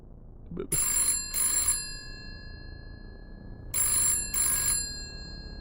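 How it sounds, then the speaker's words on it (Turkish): A telephone rings in two pairs of bright electronic trills separated by a pause. It is loud and close, and a brief low thump comes just before the first ring. "Telefon çalıyor."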